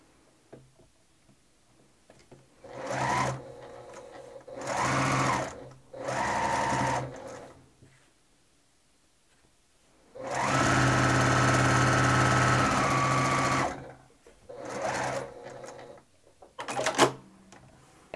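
A sewing machine stitching a quarter inch seam on a log cabin quilt block, running in several bursts: three short runs, a longer steady whir of about three seconds, then two brief stitches, with quiet pauses between.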